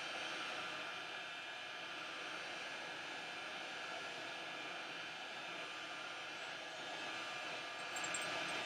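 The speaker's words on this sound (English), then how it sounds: "So I'm going to hit the back of this with the gun, the heat gun" A heat gun blows steadily on the back of a tulle flower, shrinking it: a continuous close, even rush of hot air holding the same level for the whole stretch, with no talking.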